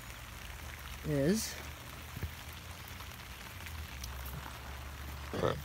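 Rain patters on a tarp in a steady, even hiss, with a brief voice and a couple of faint knocks over it.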